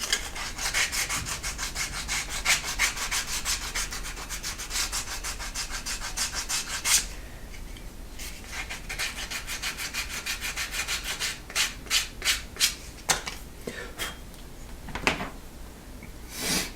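A tool scrapes and rubs along leather to mark a stitching line for a vertical wallet. The strokes are close and continuous, broken by a short pause and then a run of sharper separate scratches.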